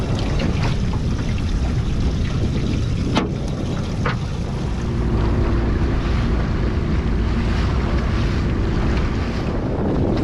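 Small boat out at sea in strong wind, heavy wind rumble buffeting the microphone over steady water and wave wash, with a couple of brief knocks against the hull.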